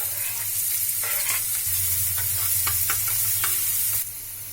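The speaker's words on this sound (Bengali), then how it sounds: "এবার আমি পেঁয়াজ কুচিটা তেলে ভেজে নিচ্ছি" Chopped onion frying in oil in a kadai, a continuous loud sizzle with intermittent scraping strokes of stirring, easing off briefly near the end, no talk.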